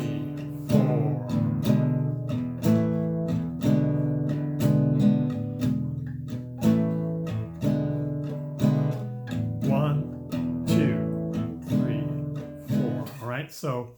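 A 12-bar blues on guitar with an embellishment only on beat two of each bar, giving a steady strummed chord rhythm with rises and falls over about fourteen seconds, close and moderately loud, with some speech-like sound mixed in.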